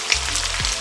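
Shrimp sizzle steadily in hot oil in a pan, a close, continuous frying crackle with no voices.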